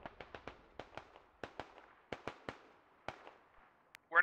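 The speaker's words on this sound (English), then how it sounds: "We're under fire from SVG techies, from the west" Gunfire from enemy technicals in the video game Squad: scattered sharp cracking shots in irregular bursts, fairly distant and alone, ending with a louder close sound.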